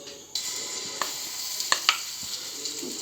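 Ginger garlic paste hits melted butter in a pan and sizzles steadily, with a few sharp clicks and taps of a spoon stirring it.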